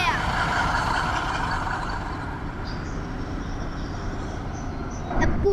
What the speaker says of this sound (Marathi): ये तो पूरा ट्रक का भंडार आ गया.